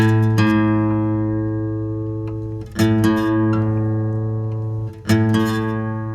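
A plucked guitar string rings out steadily while its pitch bends slightly, re-struck three times as it is adjusted, close and clear with no talking.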